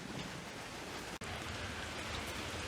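Steady, loud rain falls outside, a dense continuous hiss filling the whole stretch, broken only by one very brief dropout near the middle.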